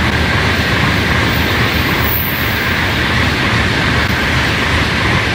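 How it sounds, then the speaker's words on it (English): A Japanese bullet train at a station gives off a loud, steady rolling roar with dense broadband rumble throughout, and no voices are heard. "And as you see, there's one train."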